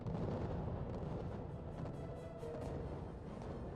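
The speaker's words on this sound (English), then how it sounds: "Or light artillery, like what the fuck?" Light artillery fire in the real-time strategy game RUSE, a dense, continuous barrage of overlapping booms and crackling bursts that keeps a steady loud rumble with no pauses.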